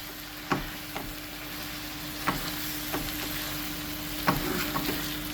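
Pork ribs sizzle steadily in a pan while a spoon scrapes and stirs at irregular intervals, the clinks and scrapes standing out over a constant frying hiss.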